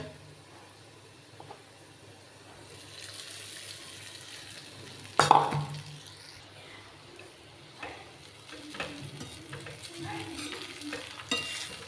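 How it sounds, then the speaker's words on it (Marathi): Flattened rice poha with onion and potato being stirred in a hot pan, a low steady sizzle with scraping spoon strokes, one sharp clatter near the middle, faint and close with no talk. "चला तर आपण हे हलवून घेऊ"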